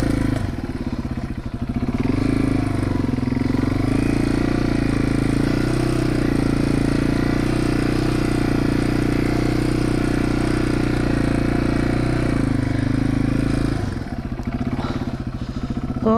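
Yamaha TW200 motorcycle riding laps in a backyard, its single-cylinder engine droning steadily and fairly loud throughout, rising slightly in the middle before easing off near the end.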